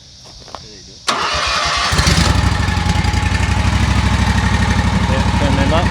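A Husqvarna 54-inch stand-on mower engine cranks and fires after a quiet moment, then settles into a loud, steady, close-up running roar that holds to the end.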